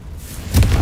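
A Confringo blasting spell explodes in the Hogwarts Legacy video game, a sudden loud, booming burst that swells after a short quiet lead-in and rumbles on to the end.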